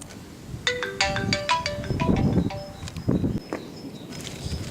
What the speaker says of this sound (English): The phone ringing was the real noise that you can hear in the video